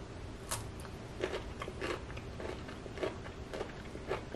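Crunchy bites into a thinly peeled raw Hakurei turnip slice, a few crisp, juicy crunches spaced about half a second to a second apart, close up with no talking.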